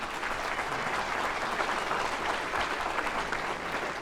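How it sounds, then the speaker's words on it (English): Luncheon audience breaks into a steady round of applause, loud, dense and unbroken throughout, with no voices standing out above the clapping. "You deserve a quick round of applause."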